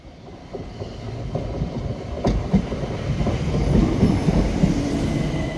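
A train rolls past nearby in Margate with a steady rumble and faint clacking wheels, growing slightly louder toward the end, with no voices.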